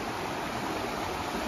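The Bessbrook River flows beside a cycle path between Bessbrook and Newry, a steady rushing hiss of moving water, loud and continuous with no voices.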